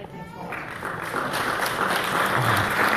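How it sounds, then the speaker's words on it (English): Light applause rises at a political town hall meeting with a congresswoman, with scattered clapping building in density, while voices murmur and talk underneath. "Light applause right there."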